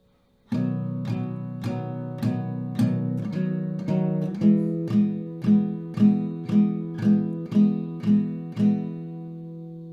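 Acoustic guitar chords are strummed in a steady rhythm, about fifteen even strokes with a chord change partway through, clear and close with no talking.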